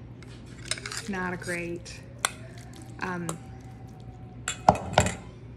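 Utensil clinking and scraping against a bowl as tuna salad ingredients with mustard are stirred together, a few quick clatters and taps up close, with a voice talking over it.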